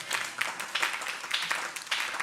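A church congregation claps along in quick, uneven bursts, a moderately loud scattered patter of many hands that carries through the whole moment with no clear talk over it.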